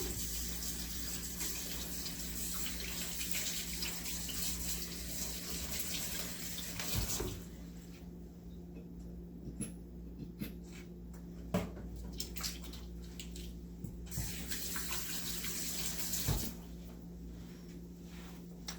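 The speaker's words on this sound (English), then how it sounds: "So, let me wash my hands." Water running from a kitchen tap during handwashing, a steady gushing stream that thins and grows quieter midway, then briefly swells again, with small clinks and splashes.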